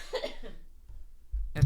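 A single close cough bursts out abruptly at the end, following a moment of speech and a short pause.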